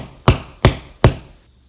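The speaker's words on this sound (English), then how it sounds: "I'll grab the hammer and tap this in place" A hammer taps a low voltage wire staple into garage drywall for door wiring: three sharp, close knocks in an even rhythm, each ringing off quickly.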